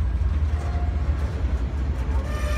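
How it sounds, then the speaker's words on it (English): A CSX autorack freight train moves along the tracks, giving off a steady low rumble with faint rail clatter that carries from some distance for a few seconds. "The rack train's moving back there."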